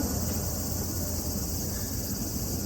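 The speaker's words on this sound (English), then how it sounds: "There are these cicadas screeching here." Cicadas screech in a park, a dense continuous high-pitched buzzing drone that fills the background steadily, fairly loud, with no voices.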